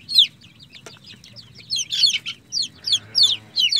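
Newly hatched chicks peep in rapid, high, repeated calls close by in a coop, with a hen's low clucking underneath, loud and continuous with no talk.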